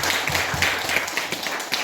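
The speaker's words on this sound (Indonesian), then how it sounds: "Semangat, tepukan untuk kita semua." A class of schoolchildren claps together in a short spirited round of hand claps, quick overlapping slaps filling the brief moment.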